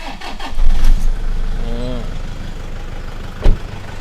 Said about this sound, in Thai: เดี๋ยวสตาร์ทให้ฟังเสียงเครื่องยนต์กันด้วยนะครับ